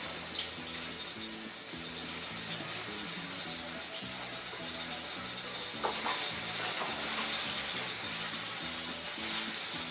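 Kataifi-wrapped shrimp fry in olive oil with a steady, close sizzle and hiss over a soft rhythmic background beat, holding even throughout with a few brief crackles.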